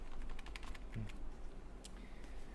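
Keys on a computer keyboard tapped in short, uneven bursts, fairly close and moderately quiet over a steady room hum, during a lesson on filling in an exam form.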